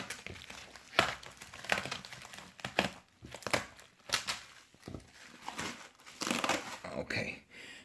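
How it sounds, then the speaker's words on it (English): Cardboard packaging for a 1:18 scale model car being gently cut and opened, giving close, irregular crinkling and scraping with small sharp cuts throughout. "So what I will do now is really to do a gentle cut here."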